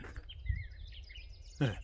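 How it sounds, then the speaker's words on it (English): Thin, high bird chirps and a short whistled call over a quiet outdoor background, with a couple of brief low knocks. "Bad stuff doesn't happen when birds are singing like this."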